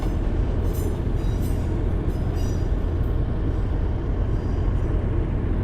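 In Train Simulator 2018, a Class 156 train rolls steadily along the tracks with a constant low rumble, while thin high squeals from the wheels come and go near the start.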